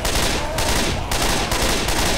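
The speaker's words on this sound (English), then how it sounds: "I'm shooting it, I'm shooting it." Gunfire in the video game Left 4 Dead 2 during a co-op match: dense, continuous rapid shots in close bursts, loud and unbroken with no talk.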